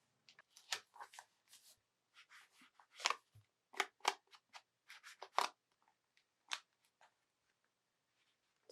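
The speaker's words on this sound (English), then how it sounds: "now I'm just going to use my tape gun and adhere it" A tape gun pressing adhesive onto paper on a scrapbook page, giving a series of quiet close crinkling, rubbing and sticking sounds in short irregular bursts, then going still.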